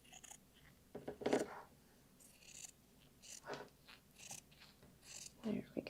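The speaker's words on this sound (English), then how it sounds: "Now you could also use your rotary cutter if you wanted. You go down there. I'm just going to use scissors." Scissors snip through fabric while corners are trimmed on a sewing project, giving a few quiet, crisp cuts scattered among low background noise.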